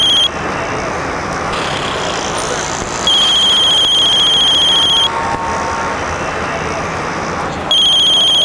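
A mobile phone ringing in repeated electronic bursts over steady road traffic noise from a motorbike, the ringtone stopping and starting again.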